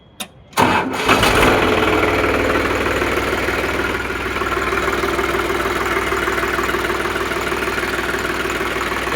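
A New Holland 3600 tractor diesel engine cranks and catches after a brief silence, then settles into a loud, steady, close idle with a knocking rumble that continues alone.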